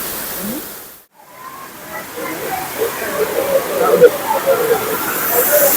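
Steady rushing water from a waterfall pours nearby, a broad roaring wash that swells slightly over time, with indistinct crowd chatter mixed in.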